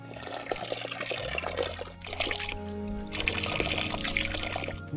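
A mountain spring of drinking water near Liptovská Lúžna on the trail to Veľká Chochuľa runs in a steady stream, splashing and pouring loudly at close range with no voices over it.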